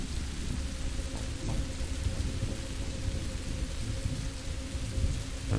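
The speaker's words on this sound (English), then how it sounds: "That actually sounds like a real thunderstorm." Steady rain with low rolling thunder from a thunderstorm in the video game Rising World, a continuous dense wash of drops over deep rumbling, moderately loud and unbroken throughout.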